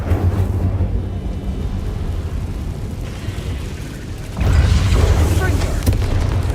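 Fiery spell blasts cast in Hogwarts Legacy, a low rumbling whoosh and burst that swells louder midway through, layered over continuous game combat noise with a voice calling out.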